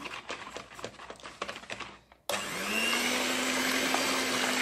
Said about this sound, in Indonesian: telur, gula, dan SP kita kocok sampai dia mengembang ya